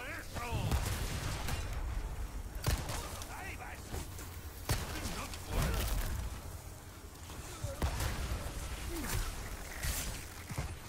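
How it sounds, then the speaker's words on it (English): Explosions and gunfire in the Resident Evil 4 Remake video game sound as repeated sharp booms and cracks at irregular intervals, layered over game noise with a player talking in between. "There's explosions everywhere."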